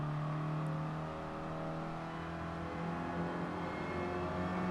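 A race car engine in Gran Turismo Sport hums and revs steadily throughout at moderate level, a continuous tonal drone with no talk over it.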